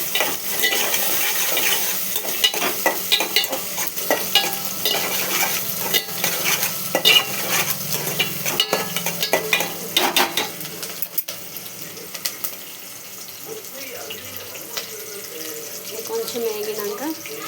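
Masala for pappu charu fries in a pot, a close, busy crackle of sizzling with frequent scraping stirs, growing calmer toward the end, while someone speaks in the background.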